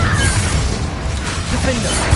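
A Confringo fire spell explodes in the Hogwarts Legacy video game, a loud burst of booming, crackling blast noise with shattering debris that stays dense and forceful throughout.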